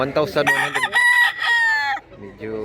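A Hatch Hennie gamecock crows loudly at close range in one full, wavering call, followed by a few softer clucks.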